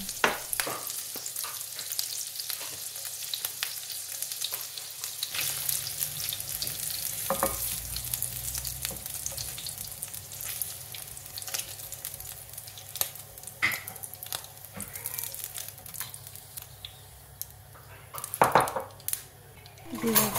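Paneer pieces frying in a pan and being stirred: a low, steady sizzle with intermittent scrapes and clinks of a utensil, growing busier toward the end, with no speech.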